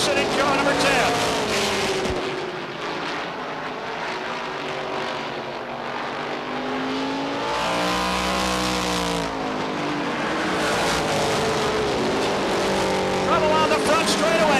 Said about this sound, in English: it is all Dave Dion, the Berlin City Ford, pulling away from the field